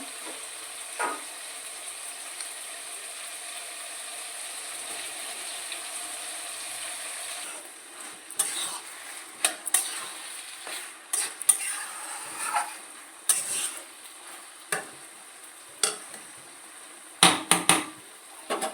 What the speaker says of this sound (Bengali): তো চালটা ভালো করে ভেজে নিই